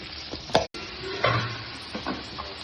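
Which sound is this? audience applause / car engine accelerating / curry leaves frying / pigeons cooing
curry leaves frying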